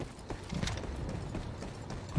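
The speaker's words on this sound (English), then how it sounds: "I hear the footstep." Footsteps in the online shooter Ironsight, a series of soft, fairly close thuds with a clip-clop rhythm over low game ambience.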